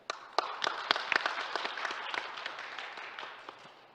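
Audience applause at a data industry event presentation, a moderately quiet burst of many hands clapping with distinct sharp claps that gradually fades over a few seconds.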